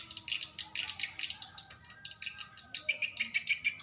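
Swiftlets calling inside a swiftlet house, a rapid stream of rattling, clicking chirps repeating in quick pulses, steady and moderately loud with no talking.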